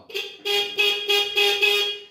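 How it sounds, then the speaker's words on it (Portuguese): A motorcycle horn honks by itself from an electrical fault, in quick repeated blasts, five or six loud beeps in a row, close by and alone. "o cliente chegou com a moto buzinando direto"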